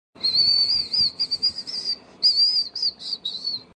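In a cartoon, a person whistles a bright, wavering tune while approaching, several short phrases with brief gaps, clear and moderately close over quiet background.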